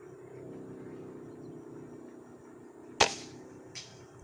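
A Taurus air rifle fired at a 100-meter target outdoors, a single sharp crack near the end of a quiet stretch of low background hum, then a fainter short knock a moment later.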